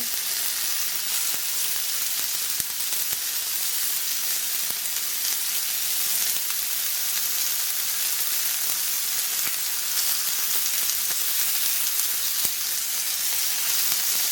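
Home-cured, nitrate-free smoked bacon frying in a hot cast iron pan, giving a steady, even, bright sizzle with small crackles and pops, close and continuous with no talking.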